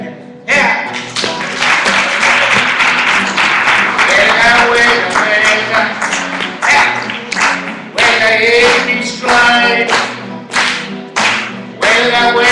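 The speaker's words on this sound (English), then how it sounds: "Hold on, everybody, clap your hands." At a climate justice tribunal in Chicago, a crowd claps hands in a loud, rhythmic beat while voices sing along. The steady clapping carries on for about twelve seconds, with brief gaps.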